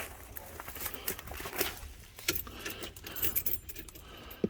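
Ignition key turned and jangling on its ring in a 1990 Ford F Super Duty with a 7.3 IDI diesel, left sitting for 15 years; a few light metallic clinks and rattles, close by, no engine cranking.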